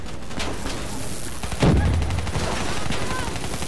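Gunfire aimed at the Wraith during a Call of Duty Black Ops 3 co-op campaign mission: rapid clattering shots with a heavy burst near the middle, dense and close, over background game noise and faint voices.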